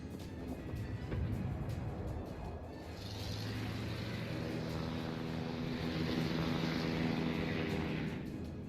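Carrier aircraft in the naval battle game World of Warships drone steadily as they fly, a continuous propeller hum that builds after a rough start and holds through to the end with no talking.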